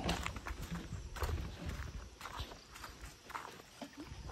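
Horse hooves clip-clop at a cowboy camp in Kiliog, Libona, Bukidnon, a steady run of hoof strikes at middle distance over outdoor background noise, with no voices.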